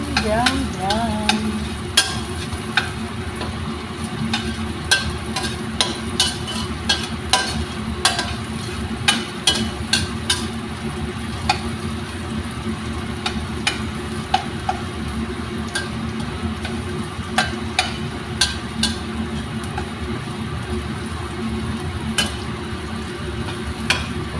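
Garlic browns in a frying pan for fried rice, a continuous sizzle under constant quick scraping and tapping of a spatula against the pan, close and busy, with no speech.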